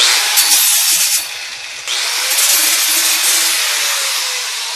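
A power tool grinds or wire-brushes weld spatter off metal, a loud harsh whine that runs continuously, dipping briefly before surging again, close and without talk.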